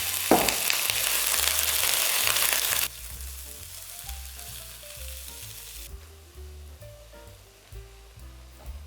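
Lamb for an Irish stew browns in a hot pan, a loud steady sizzle and frying hiss that drops in level partway through, with faint background music and no talk.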